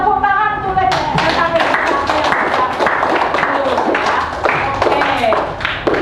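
Students in a classroom clap for a group after its presentation, scattered uneven claps and taps from a small group, with voices and chatter mixed in throughout.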